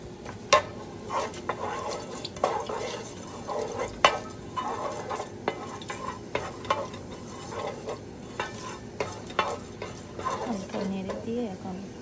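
Vegetable fry with panch phoron being stirred in a pan, a soft sizzle under repeated sharp scrapes and clinks of the spoon against the pan, with a voice speaking intermittently.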